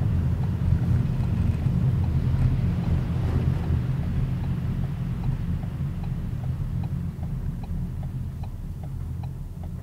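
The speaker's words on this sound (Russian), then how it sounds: "звук поворотников шикарный такой," Ford Focus turn signal ticking inside the car, a steady run of evenly spaced light clicks over a low engine and road rumble, with the ticks becoming clearer in the second half.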